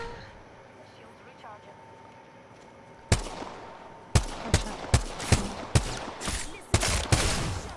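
Gunfire in the battle royale game Apex Legends: a quiet stretch of ambience, then a sharp run of about a dozen loud, closely spaced shots in an irregular rhythm, with players talking faintly.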